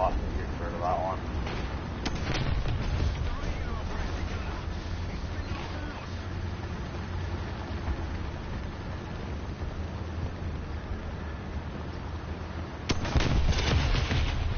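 Tank gunfire and explosions in War Thunder, heavy booms rolling under a steady engine rumble with a loud blast near the end, while a voice talks over it.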